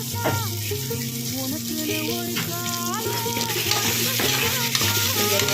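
Onion and tomato sautéing in a pan, a loud close sizzle with repeated scraping stirs, while tonal clinks and a brief running-tap sound come and go over the short stretch; no one speaks.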